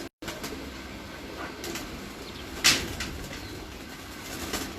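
A pigeon coos softly in a loft of racing pigeons, faint low calls over steady background hiss, with one brief sharp knock partway through and no voices.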